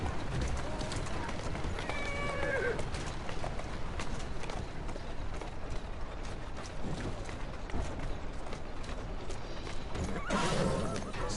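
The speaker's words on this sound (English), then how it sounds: "Who's a good horse?" A horse whinnies twice in a video game, once early and once near the end, over a dense, noisy background of rumbling and clatter.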